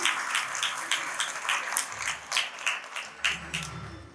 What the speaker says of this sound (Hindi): तो हम एक बार जोरदार तालियों से उनका स्वागत करते हैं।